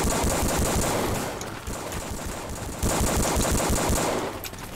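Rapid, dense video-game gunfire from two weapons, continuous machine-gun bursts close and loud with a brief lull midway before resuming.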